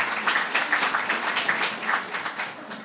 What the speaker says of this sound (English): So maybe a round of applause for that group.